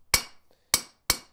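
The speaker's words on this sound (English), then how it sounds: "hammering that rag back in to the hole gives you" Three sharp, ringing hammer blows on forged iron close around a punched hole for a chest handle, each hit bright and metallic with a quick decay, and an uneven gap between strikes.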